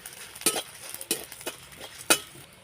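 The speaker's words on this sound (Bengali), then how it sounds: "এবারে এগুলোকে শুকনো কড়াইতে প্রথমে ভেজে নেব।" Dried chilies, peppercorns, cumin, coriander and fennel seeds are dry-roasted in a wok, with a handful of sharp rattling scrapes and clicks of the spoon at uneven intervals over faint background hiss, close and without speech.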